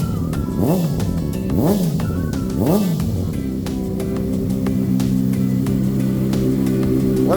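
A 2003 Honda CBR600RR sport bike with a Two Brothers exhaust revs up close, three sharp rising-and-falling throttle blips followed by a steady, loud idle growl.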